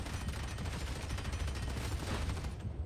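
Rapid, continuous gunfire from the Ogryn's Gunlugger heavy stubber in Warhammer 40K: Darktide, a dense rattling stream of shots held at a fairly low, steady level for a few seconds with no talking.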